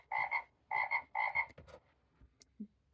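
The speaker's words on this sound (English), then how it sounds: "We also have the frogs." Frogs croak from a children's noisy farm sound book, three paired ribbity croaks in steady rhythm, followed by a few faint clicks, close and without any voices.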